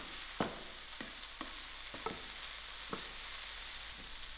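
Spring roll vegetable filling gets mixed with soy sauce over a steady sizzling hiss, with soft scrapes and taps of a utensil against the pan at irregular intervals.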